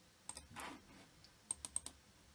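A few quiet computer keyboard keystrokes as a card number is entered, a short isolated burst of clicks followed by a quick run of four taps, close and soft with no speech.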